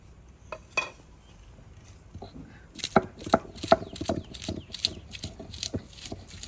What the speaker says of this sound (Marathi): ही आता आपण पाट्यावर वाटून घेणार आहोत